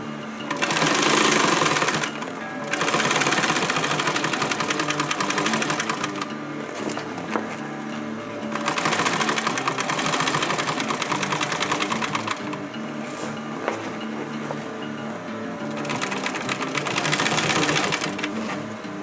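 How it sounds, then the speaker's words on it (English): A sewing machine stitches over backpack webbing in several loud, rapid mechanical bursts of a few seconds each, separated by brief pauses as the fabric is repositioned. "Now sew it one more time for the durability."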